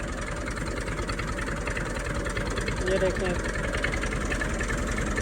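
A farm tractor idles steadily with a low, continuous rumble before being driven in first gear for spraying, while someone talks over the engine throughout.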